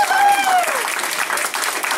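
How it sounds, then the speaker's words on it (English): A comedy-show crowd applauds the veteran comedians who performed. Steady clapping from many hands runs throughout, with a voice briefly talking over the first moments. "Give them a big round of applause for that."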